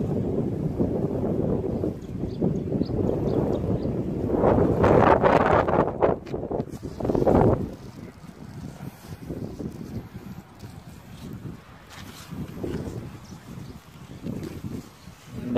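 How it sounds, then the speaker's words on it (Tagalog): Strong gusts buffet and roar against the microphone on a farm field, loud and rumbling, surging in waves before easing into softer intermittent blasts. "Grabe yung lakas ng hangin"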